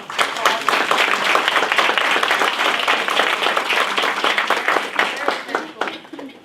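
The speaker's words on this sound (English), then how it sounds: "let's give San Diego Gas and Electric a warm applause" Audience applause at a workshop, steady dense clapping from a crowd for about six seconds before tapering off near the end.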